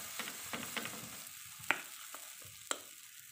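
Idli-batter uttapam being cooked on a pan as the batter is poured, a faint, soft sizzle with a few light taps and clicks from a utensil, quiet and close.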